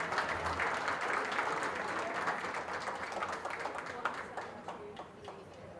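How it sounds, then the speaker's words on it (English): Sustained audience applause at a junior fair goat show in Belmont County, steady clapping from a crowd filling the ring area, moderately loud and continuous throughout with faint voices mixed in. "Give them a big round of applause"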